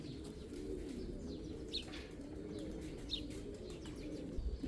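Pigeons coo steadily in a racing pigeon loft, soft low throaty calls layered continuously, with a few sharper chirps and tweets standing out nearby; no talking.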